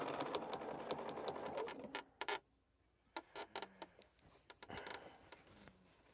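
Home sewing machine stitching a Poppins bag, bursts of rapid mechanical needle clatter in short runs separated by pauses, close and moderately loud, with no talk over it.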